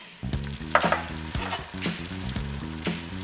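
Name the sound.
Caribbean style curry powder frying in a pot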